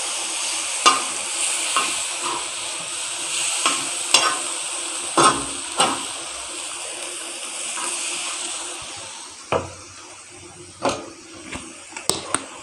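A spoon stirs chicken shawarma marinade with soy sauce in a bowl, giving scattered clinks and scrapes over a soft steady background hiss.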